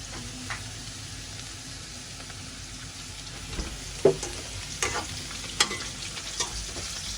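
Curry with spice powder being stirred and fried in a pan for a festive Diwali feast, giving a steady sizzle with scraping spoon strokes and a few louder clinks toward the end, with no talk.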